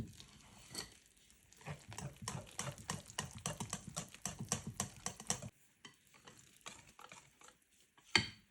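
Whisking flan pâtissier batter thickened with starch vigorously in a bowl, a fast, steady rattle of whisk strokes against the bowl that stops briefly, then resumes more softly with a final louder clank.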